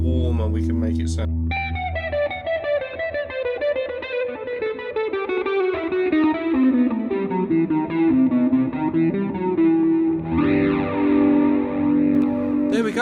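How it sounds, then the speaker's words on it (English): An Ibanez S Prestige electric guitar on its neck humbucker with the tone knob rolled off plays a warm, rounded melodic run that descends in pitch, then settles on sustained chords, close and without talk. "Let's roll off the tone and see how much warmer we can make it sound."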